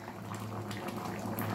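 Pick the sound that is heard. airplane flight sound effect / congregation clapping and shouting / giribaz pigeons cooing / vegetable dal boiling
vegetable dal boiling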